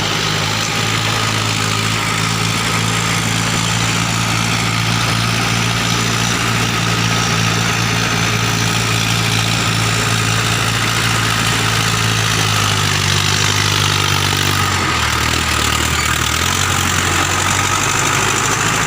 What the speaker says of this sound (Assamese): আহি গ'ল এইখন ট্ৰেক্টৰ। তো এতিয়া মানে হাল বাব আৰু ট্ৰেক্টৰ ইয়াতে